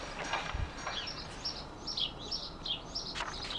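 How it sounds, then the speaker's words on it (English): Small birds chirp and tweet in a sunny garden beside a decking area, with short repeated high calls coming in bursts over a soft outdoor background. "My little birdies. I love birds."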